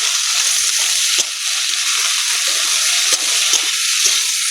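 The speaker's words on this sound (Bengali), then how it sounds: "তুরুলগুলো ভালো করে ভেজে নেব" Cut, washed ivy gourd (turul) pieces frying in oil in a pan already holding potatoes, a loud, close, steady hiss with a few stirring knocks and no talk.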